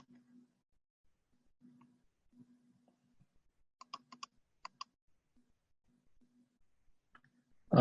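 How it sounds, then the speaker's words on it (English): Computer keyboard typing during an online chess game-analysis class: scattered soft keystrokes, then a quick cluster of sharp clicks in the middle, with faint, low talk underneath. "you're typing"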